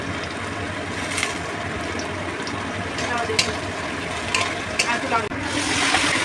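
Raisins, cashews and turmeric sizzle steadily in a hot pan for a mixed chana dal with paneer, making a continuous close frying crackle with a few sharp clinks of a utensil, and nothing else over it.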